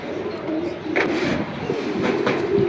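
Black racer pigeons coo steadily at a pigeon market in Jinjira Bazar, a close, continuous murmuring with a few louder swells, alongside faint background bustle.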